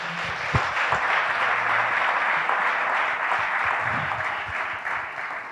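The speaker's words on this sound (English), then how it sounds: "Let's give them another round of applause." Steady audience applause fills the room at a civic business event, dense continuous clapping holding at an even level for several seconds with no talk over it.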